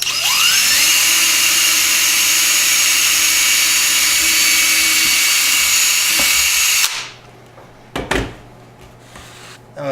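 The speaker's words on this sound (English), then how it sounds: "I'm just going to drill right down through all this material." A battery drill whines steadily and loudly as it bores down through material while installing 2017 Sparky Myrl 4-inch lift cups for several seconds, then stops, followed by a few clunks and clicks.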